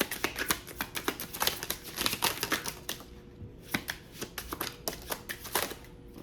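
Oracle cards being shuffled by hand during a card reading, a steady run of quick papery riffles and taps, close and fairly quiet, with a brief lull midway before the shuffling resumes.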